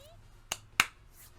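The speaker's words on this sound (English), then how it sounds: "He said that, then quickly and sharply clapped his hands together." Hand clap sound effect from the Danganronpa video game: two sharp, crisp claps in quick succession, loud against a quiet background hum.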